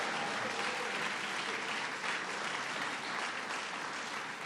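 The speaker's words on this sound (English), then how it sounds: "Let's give Reverend Lewis another round of applause for getting this rally going." A crowd applauds a speaker at an outdoor political rally with a broad, steady wash of clapping. It sounds fairly distant and fairly quiet and carries on evenly with no one talking over it.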